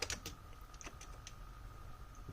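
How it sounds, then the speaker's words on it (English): Slow, faint keystrokes tap on a computer keyboard attached to an old 32-bit PC, a handful of soft scattered clicks over a steady background hum, with no one talking. "it doesn't capture all the keystrokes. I have to type slow."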